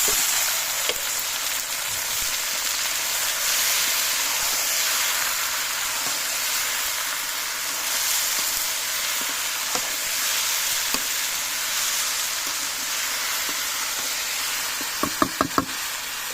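Boiled potatoes frying with browned onions and whole mustard seeds in a pan, a steady dense sizzle throughout with a few sharp utensil knocks near the end; no voices.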